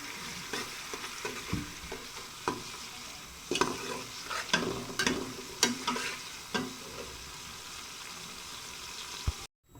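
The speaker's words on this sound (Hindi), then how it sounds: "इसको फ्राई कर लेते हैं, हल्का सा फ्राई करना है" Onions sizzle steadily in hot ghee for daal maash fry, with spoon scrapes and stirring clatter breaking through the frying hiss. Nobody speaks.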